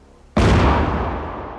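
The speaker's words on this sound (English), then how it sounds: "A cannon!" Cannon fire in a fantasy battle story: a single sudden loud boom that cuts in sharply and then rolls off slowly in a long, fading rumble, with no voices over it.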